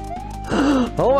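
A cartoonish duck quack sound effect from a Super Mario Kaizo ROM hack: a short, nasal, pitch-bending honk repeated twice over a steady game tone, loud and close.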